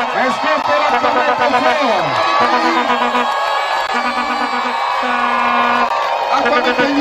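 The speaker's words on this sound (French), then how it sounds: "J'aimerais que vous acclamez Jésus" A congregation at a prayer and worship meeting cheers and acclaims Jesus, a loud continuous wash of shouting and whooping voices with sustained sung or called tones over the crowd noise.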